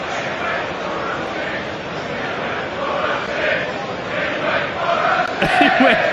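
A large football stadium crowd roars and chants in a dense, continuous wall of voices, swelling near the end, with commentary running underneath.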